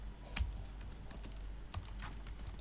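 Steady clatter of keys on a computer keyboard as code is typed, a quick run of close, light taps with an occasional sharper keystroke, no voices.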